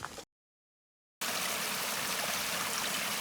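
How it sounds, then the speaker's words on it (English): A mountain stream along the Appalachian Trail rushes and gurgles at a steady, loud level after a brief cut at the start, the water flowing continuously close by with no voices. "We got a great water source right here."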